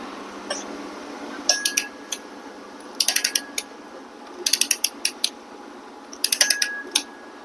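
A torque wrench tightening the flywheel bolts on a 1968 Moto Guzzi V7 700 in a crisscross pattern, producing close, bright ratcheting clicks in four short bursts separated by pauses, with no talk.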